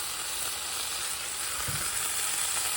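Curry mix squeezed into a hot pan for a fish and vegetable coconut curry, giving a steady, fairly quiet frying sizzle throughout with a soft thump partway.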